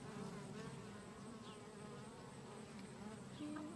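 Bees hum steadily inside an opened beehive, a dense continuous buzz from close by with no talking, some crushed under the top boards during an inspection.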